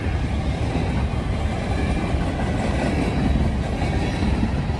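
A CSX work train with Herzog cars rumbles past close by with a continuous heavy roar and rattle of rail cars, steady throughout.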